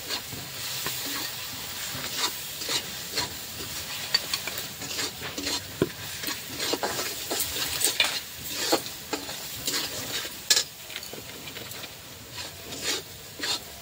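Spice masala frying in a pan for chicken dum biryani, a steady soft sizzle with scraping and rubbing strokes from stirring, close and fairly quiet, no speech.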